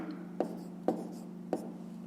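A pen writes numbers on paper for a fifth-grade math exercise, producing three soft, evenly spaced taps and scratches over a steady low hum, close by and quiet.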